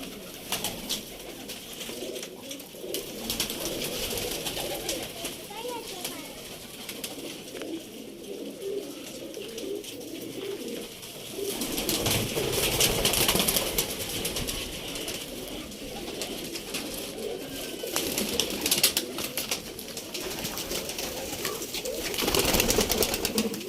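Pigeons coo continuously in a loose overlapping chorus, with some rustling and a brief flutter of wings.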